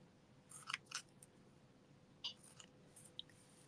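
Scissors snip through a loop of craft material in a few short, crisp cuts, quiet and close with brief pauses between them.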